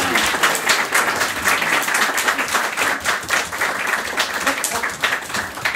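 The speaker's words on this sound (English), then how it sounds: "Give them a great big cheer." Wedding guests at a humanist ceremony clapping enthusiastically, a dense, lively burst of applause with uneven peaks throughout.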